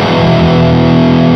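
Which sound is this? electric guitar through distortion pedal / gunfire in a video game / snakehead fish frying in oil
electric guitar through distortion pedal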